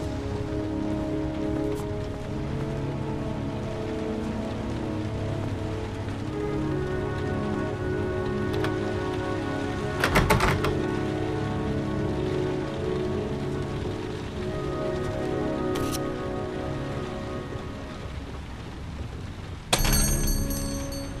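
Rain falling in the video game Heavy Rain, a constant patter of drops on surfaces that continues without a break, along with a few faint clicks and knocks and no speech.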